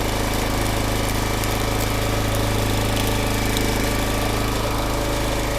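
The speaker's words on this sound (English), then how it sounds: "I know this splitter probably seems real slow to you compared to the Easton made, but it works." Engine-driven log splitter running steadily while splitting cherry firewood, a constant loud motor drone with a low hum that stays even throughout, with no voices.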